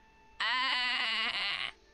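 A person imitates a sheep's bleat in one sustained, wavering nasal bleat lasting over a second, clear and close against a quiet background.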